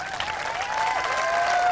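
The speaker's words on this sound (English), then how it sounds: "We have another round of applause for our students who" Brief burst of audience applause at a school opening convocation, clapping building in loudness with a faint tone running underneath.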